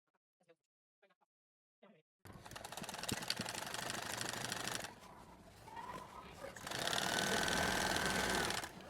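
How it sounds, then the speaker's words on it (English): A few faint sounds, then a sewing machine starts up hemming fabric for a throw pillow and runs steadily with a fast mechanical whir, pausing briefly before continuing loud and close. "Now we'll go over to the sewing machine and hem this up"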